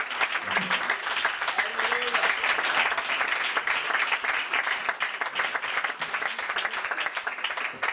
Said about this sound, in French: acclame le Seigneur Jésus-Christ. Alléluia